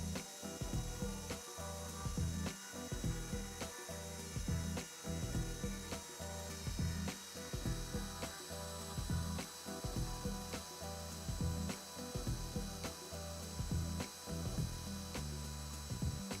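An X-Carve CNC router mills 6061 aluminum on an outside pass, giving a steady, close mechanical chatter with fast rhythmic clicking pulses and a high whine from the spindle throughout.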